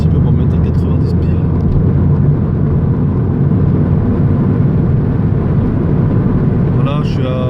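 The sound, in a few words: Peugeot 207 RC engine accelerating while driving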